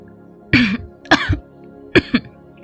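Three short, hoarse coughs close to the listener, the last two coming in a quick pair, with quiet pauses between them.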